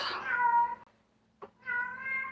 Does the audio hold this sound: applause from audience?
no